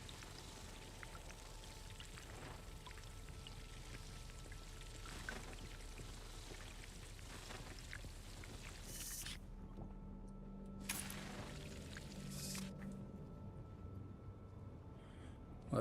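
Water harvesting in the Dune Awakening video game, a steady soft pouring and drip-like patter running throughout with some brief louder bursts, no talking.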